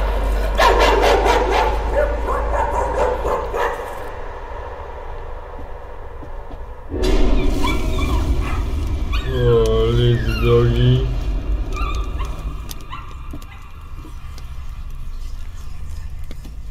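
A dog in the video game Layers of Fear gives a few yips and short barks, then a drawn-out whining, whimpering call. The sounds are loud and close over a low background rumble.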